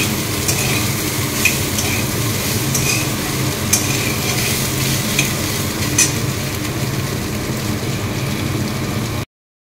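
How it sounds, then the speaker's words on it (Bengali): Soybean chunks sizzle in about two spoonfuls of hot oil in a kadai while being stirred, a steady close frying hiss with scraping stirs and light crackles throughout, stopping abruptly near the end. "এবার সামান্য একটু ভেজে নিই"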